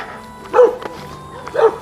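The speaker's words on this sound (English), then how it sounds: "There's a lot of barking dogs." Two barks from dogs ring out roughly a second apart, short and moderately close, with faint ambient hum between them.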